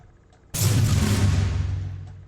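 A single huge, booming cinematic drum hit from a plugin lands abruptly and rolls out into a long, deep, decaying rumble.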